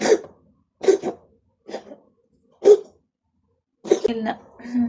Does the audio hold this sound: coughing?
yes